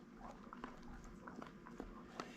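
Dogs chewing on beef bones, faint scattered crunches and gnawing clicks at irregular intervals over a low, quiet background.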